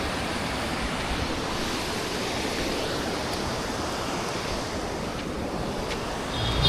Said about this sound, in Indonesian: Air terjun di tengah sawah ini.